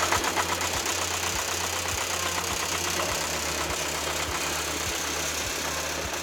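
A 1960 Detroit Diesel 4-71 engine in a road grader runs steadily and loud, with a rhythmic knocking pulse over a continuous rumbling idle throughout.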